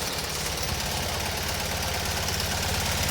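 Fiat 126p small car engine running steadily up close, a loud continuous rattling throb with even rhythmic pulsing and no voices.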